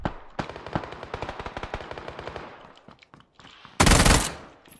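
Rapid automatic gunfire in a shooting video game, a fast run of close, loud shots that fades out, then a short pause and one heavy blast-like burst near the end.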